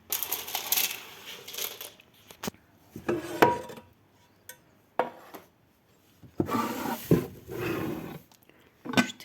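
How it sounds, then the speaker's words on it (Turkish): Metal pots and pans clank, scrape and rattle as they are lifted out of a kitchen cupboard in several bursts, with knocks against wood and quiet gaps between. "Tencereler falan onları çıkartacağım."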